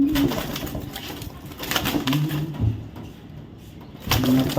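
An active red pied pigeon coos up close in repeated rolling phrases, with a scuffing rustle of movement in between and a louder flurry near the end.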